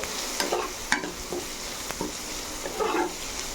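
Curry leaves fry in a pan for a bitter gourd spice powder, with a steady low sizzle and repeated light stirring taps and scrapes against the pan.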